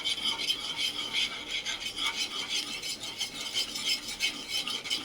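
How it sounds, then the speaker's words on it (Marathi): A hand mixes besan batter for bhaji, making a continuous rhythmic rubbing and squelching stir, close and moderately quiet, with no voices. "आणि अशा हलवून घ्यायचे आहे हाताने. पूर्णपणे मिक्स झालं पाहिजे, गाठी नाही झालं पाहिजे."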